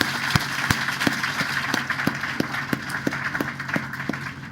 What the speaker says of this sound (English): Please applaud him.